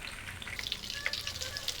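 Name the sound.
frying cassava leaf rolade in hot oil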